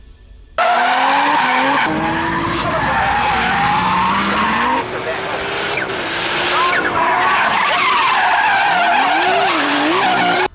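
A car drifting, loud continuous tire squeal with wavering pitch over a revving engine, close and sustained, briefly dipping midway before resuming.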